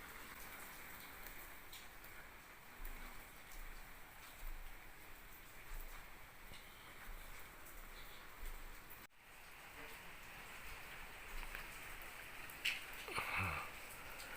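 Rain keeps falling outside a house at night, a soft continuous patter on roofs and surfaces, faint and steady with a few brief rustles near the end and no talking.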